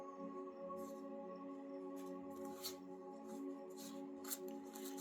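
Tarot cards being shuffled by hand, a run of soft papery riffling bursts recurring over a steady background music bed, fairly close.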